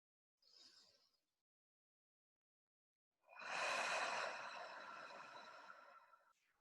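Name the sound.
deep breathing in and out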